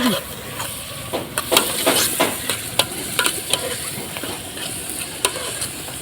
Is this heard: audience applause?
no